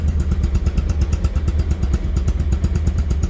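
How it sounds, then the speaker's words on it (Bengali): A Bajaj Pulsar ABS motorcycle engine running at idle, close by and loud, with a rapid, even thumping exhaust beat and some mechanical clatter. "রানিং অবস্থায় কিন্তু আছে বাইকটি রানিং অবস্থায় আছে দেখেন"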